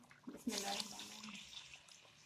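About one litre of water is poured into a pot holding 1.5 kg of chicken for nihari, a close splashing gush that tapers into a softer trickle, with someone talking.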